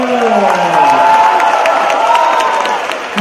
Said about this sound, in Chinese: 让我们用热情的掌声、欢呼声，有请我们非常可爱的黄岩老师